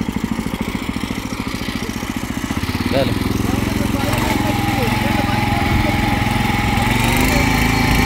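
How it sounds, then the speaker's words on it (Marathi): A power weeder rotavator engine runs in a tomato field bed, chugging rhythmically at first and then settling into a louder, steady drone with a voice faintly over it. "तो क्लच दाबला तर मशीन पुढे चालायला सुरुवात करते"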